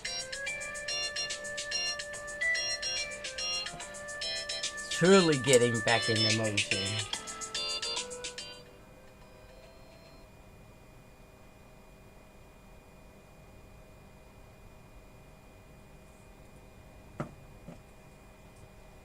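A phone rings with a bright repeating electronic tone during a live drawing session, a soft voice speaks over it, and then it stops, leaving a quiet room with a brief click.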